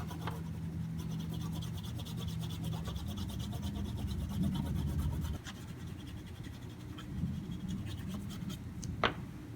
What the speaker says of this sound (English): I'm going to lightly rub back and forth, left to right,